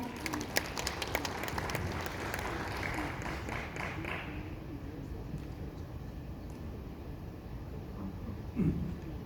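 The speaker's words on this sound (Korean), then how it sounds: "박수 부탁드립니다." Applause at a seminar talk in Korea, a broad wash of clapping that is brighter and denser for the first four seconds, then thins into a softer, steady rustle with a brief bump near the end.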